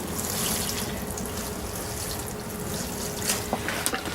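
Aquaponic water from fish tanks poured steadily over a tray of microgreens to pre-moisten them, a continuous close trickling splash with a few drips near the end.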